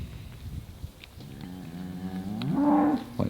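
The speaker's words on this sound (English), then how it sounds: "There are the two calves." Two calves moo out in a farm field where pigs also roam, one drawn-out low call swelling louder toward the end, heard alone without talk.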